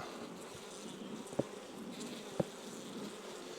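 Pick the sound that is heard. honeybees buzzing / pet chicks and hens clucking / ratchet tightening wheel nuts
honeybees buzzing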